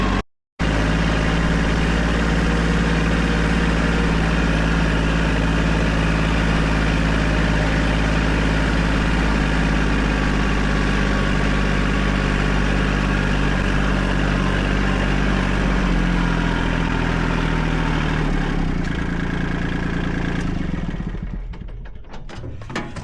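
Tractor engine running steadily during a ride out to a food plot, a constant low drone with rattling for about twenty seconds before it winds down and fades at the end.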